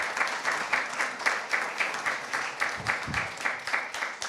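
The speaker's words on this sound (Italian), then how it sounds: "Vorrei che gli facesse anche un bel applauso." Applause from an audience at a town meeting on the redevelopment of a piazza, a steady wash of many hands clapping with a loose pulsing rhythm, moderately distant and sustained without speech.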